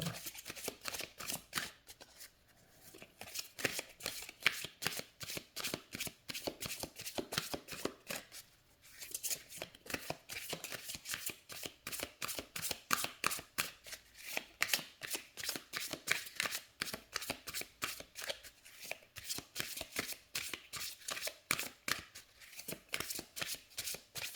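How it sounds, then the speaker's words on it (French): Deck of oracle cards shuffled steadily by hand, a dense run of crisp, rapid riffling slaps close up with brief pauses, no talking. "les cartes se mélangent très très bien. Elles glissent très bien entre elles"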